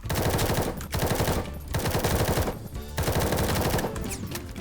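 Gunfire in the Roblox game Military Tycoon: long, loud bursts of rapid automatic fire broken by brief pauses, dense and continuous through nearly the whole stretch.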